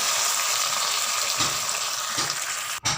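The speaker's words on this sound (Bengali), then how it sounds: "এবার দিয়ে দেবো পরিমাণ মতো জল" Water pours into a pan of bean, potato and tomato curry, a short rushing gush over faint sizzling, ending in a brief clatter.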